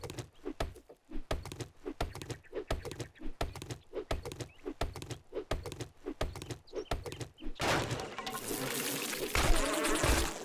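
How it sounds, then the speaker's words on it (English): Bees buzz from a hive broken open in the survival game 7 Days to Die, a steady insect drone under repeated rhythmic thunks of chopping, swelling into a dense, louder buzzing swarm near the end. "So that one had bees in as well"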